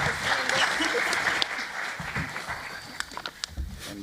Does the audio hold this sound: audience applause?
yes